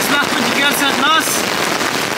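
Heavy rain pours during a storm in a forest at night camp, a dense, steady hiss that stays loud and unbroken throughout.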